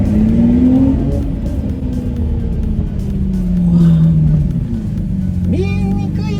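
A Lamborghini Murciélago engine revs and rumbles continuously on its first drive, loud and close, its pitch rising and falling, with people talking over it inside the car.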